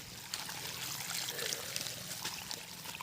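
Water from a running motor pump pours steadily out of a leaking pipe, a constant close rush and trickle with no breaks.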